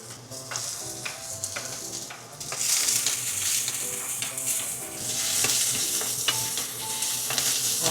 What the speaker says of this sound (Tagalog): Let's start by sauteing onion and garlic.